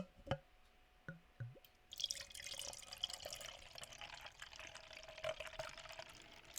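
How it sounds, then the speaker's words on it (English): Pumpkin stout beer poured slowly from a bottle into a wine glass, a few faint drips at first, then a steady hissing, foaming stream of liquid that continues quietly to the end. "The theatrics of a 5-minute pour into a wine glass."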